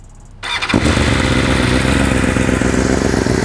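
A BMW M1000RR superbike, already warm, fires up after a brief crank and settles into a loud, steady, close idle with a rough mechanical clatter.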